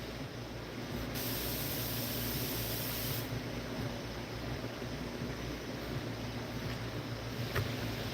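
Windshield washer fluid spraying steadily on a Ford whose wiper linkage is broken, a continuous hiss of spray with a faint underlying motor hum, changing slightly in level a few times.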